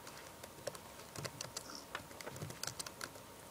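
Quiet, irregular key clicks as someone types one-handed on a computer keyboard, a sparse patter of taps close by with no talk.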